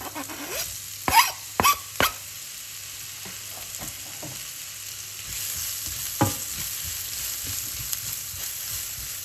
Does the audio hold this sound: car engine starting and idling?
no